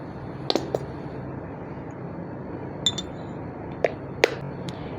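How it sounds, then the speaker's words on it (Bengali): A spoon stirs aloe vera gel in a small glass or bowl, giving a few sharp, sparse clinks against the side over a quiet background, with no talking. "আমি আগে এটা ভালো করে মিশিয়ে নিচ্ছি।"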